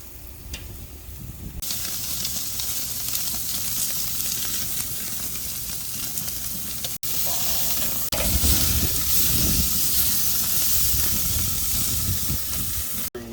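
Wagyu picanha searing over lump charcoal on a high-flame grill: a loud, steady sizzle and hiss that runs almost unbroken, with one brief dropout midway and no talking.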